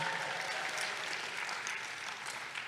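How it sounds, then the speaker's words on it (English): Applause from an audience at a school honor roll ceremony for students, a soft, continuous patter of many clapping hands heard at a distance and fading slightly toward the end. "Can you clap it up for Lucy and Sabrina?"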